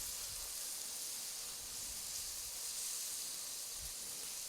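Pad thai rice noodles sizzling in a hot wok, a steady bright hiss with no breaks, moderately quiet and close, with no voices over it.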